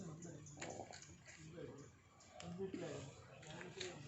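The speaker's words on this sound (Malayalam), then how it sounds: "ഇതപ്പുറത്തെ പട്ടിയാണ്" A neighbour's dog whimpers and yips faintly at a distance in a quiet household yard, with short soft cries rising now and then beneath people talking.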